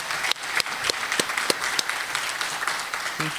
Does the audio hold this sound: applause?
yes